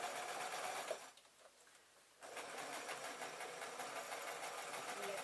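Sewing machine stitching a small fabric tote, a fairly quiet steady whir that drops out briefly for about a second before running on evenly.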